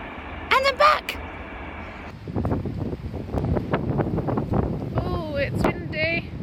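Wind buffets a microphone outdoors in woodland, a low rumbling roar that swells and gusts throughout while voices talk over it.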